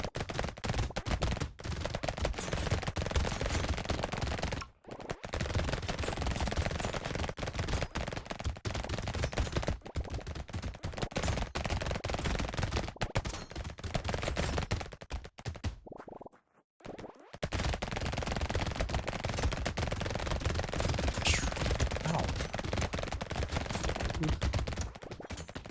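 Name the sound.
nuclear launcher weapon firing in Brotato video game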